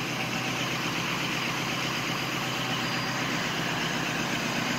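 A cold 2004 Ford F350 with the 6.0 diesel idles on a cold start, a steady, loud, dense rumbling drone with a continuous broadband roar and no pauses.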